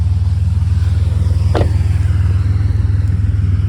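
A 2005 Buick Century Custom engine idles loud and steady with a hole in the muffler, giving a deep, rapid pulsing rumble throughout, with one brief higher scrape partway through.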